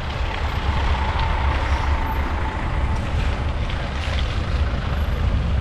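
Heavy road traffic with cars, buses and trucks in a congested jam, a loud steady low rumble of engines with wind buffeting the microphone, continuous with no pauses.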